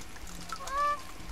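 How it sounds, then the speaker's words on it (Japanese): A goose-like honking bird call rings out once, brief and fairly clear, over a steady ambient bed in the survival game The Forest. "あ、鳥の声か。"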